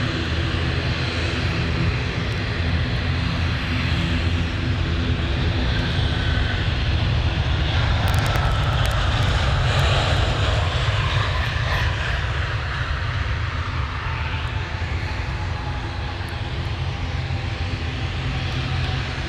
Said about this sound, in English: here we go, the service inbound from Sydney, the Qantas 737 service